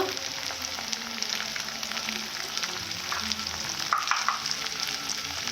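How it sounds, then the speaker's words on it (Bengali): Ginger garlic paste fries in a pan with a steady, close sizzle and crackle that runs unbroken throughout, with no voices. "আদা রসুনটা খুব ভালো করে ভেজে নিতে হবে"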